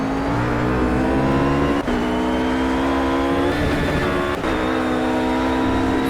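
RUF GT3 racing car at Catalunya in Project CARS, its engine howling close and constant, rising in pitch and dropping briefly at two gear changes.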